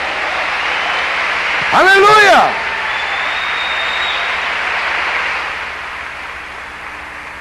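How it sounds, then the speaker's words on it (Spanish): Church congregation applauds in a broad, even patter that fades gradually, heard behind a voice calling out briefly in Spanish. "Amén, un aplauso."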